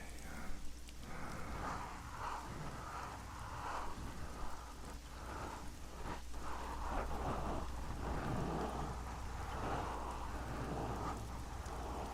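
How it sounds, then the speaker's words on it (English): Steady rain pours in a continuous hiss, with a low rumble of thunder underneath and no voices over it. "Is the rain too loud?"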